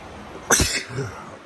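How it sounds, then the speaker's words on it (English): A single sharp sneeze bursts out close by, then a short breathy tail fades into quiet background noise. "I'm sneezing like crazy."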